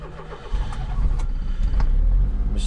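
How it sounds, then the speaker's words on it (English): A Smart car's engine starts after a brief quiet moment, then settles into a steady, close, low rumbling idle. "Now it wants us to start the engine,"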